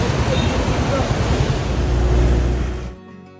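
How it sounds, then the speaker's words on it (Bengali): Loud, broad rushing water of the Lidder River in Pahalgam, Kashmir roars continuously, close by and mixed with wind buffeting the microphone, then cuts off abruptly at the end. "এটা হচ্ছে রিডার নদী"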